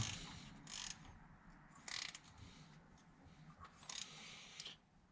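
A ratchet wrench clicks in quick bursts while tightening a spark plug on a 2007 Honda Pilot, close and faint, with short ratcheting runs separated by pauses.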